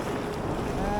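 Strong wind gusts across the microphone on a small fishing boat at sea, producing a dense, continuous rumbling roar throughout.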